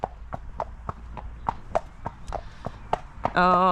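A horse's hooves clip-clop on a road during a relaxed hack out, a close, even walking rhythm of crisp strikes about three per second, ending with a brief tonal sound.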